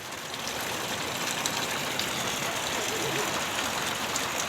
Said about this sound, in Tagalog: Ang lakas ng ulan.